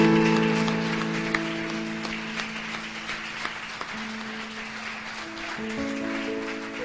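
Congregation applauding during a church service, a steady wash of clapping running throughout while sustained organ or keyboard chords play underneath.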